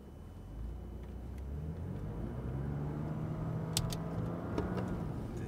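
Cars pass on the Circuit de Dreux race track with a steady engine rumble and rising revs at moderate distance, continuous throughout with no voices.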